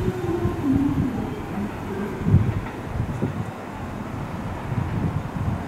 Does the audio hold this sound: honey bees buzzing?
no